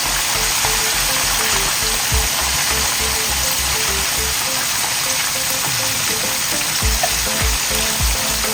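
Fish frying in hot oil for Haitian fried fish, a loud, steady, dense sizzle and crackle that runs without a break, close to the pan.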